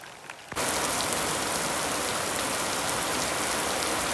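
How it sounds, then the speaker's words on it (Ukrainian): Heavy rain suddenly starts after a brief quieter moment, then pours down steadily as a dense, loud, continuous hiss close by. "тут а дощ лупить"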